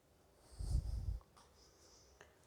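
Chalk or marker strokes a capital V onto a board in a physics classroom, one short scratchy burst followed by a few faint taps, fairly quiet with no talking.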